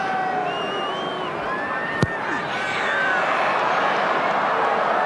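Rugby crowd at Ellis Park in Johannesburg during a Transvaal versus Queensland Reds match, a broad roar of shouting and cheering that swells slightly toward the end, with a sharp thud near the middle.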